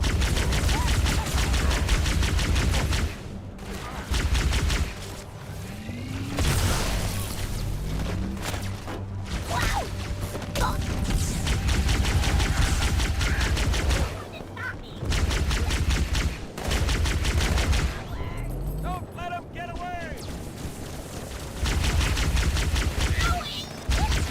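Plasma pistol shots and heavy gunfire from Halo 2 Anniversary come in loud rapid bursts with explosions and mechanical effects, broken by short gaps, with a voice talking over parts of it.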